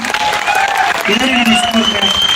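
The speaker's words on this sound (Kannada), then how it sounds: "ಜೋರಾಗಿ ಚಪ್ಪಾಳೆ ಹೊಡಿ ನೋಡೋಣ" Loud burst of clapping from a crowd, with voices calling out over it.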